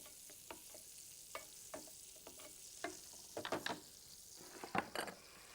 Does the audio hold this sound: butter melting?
yes